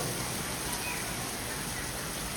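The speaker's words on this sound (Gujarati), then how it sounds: "મસ્ત વરસાદ ચાલુ થઈ ગયો. ફરીથી ચાલુ થઈ ગયો" Steady rain falls outdoors as a soft, even hiss with no breaks, fairly quiet and with no voices over it.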